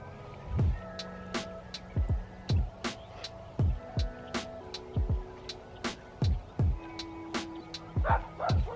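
A dog barks repeatedly in a steady series of sharp, fairly close yips and bow-wows, about one or two per second, on an outdoor homestead where manure is being spread on a garden bed.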